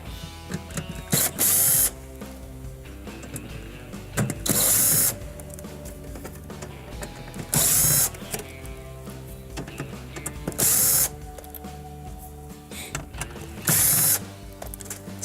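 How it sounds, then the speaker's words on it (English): A screwdriver backing number 2 Phillips screws out of the control board of a Whirlpool microwave, with repeated quiet ratcheting clicks in short bursts spaced a couple of seconds apart and faint handling noise between them. "we can now remove the number 2 Phillips screws that are securing the actual control board onto the actual control panel"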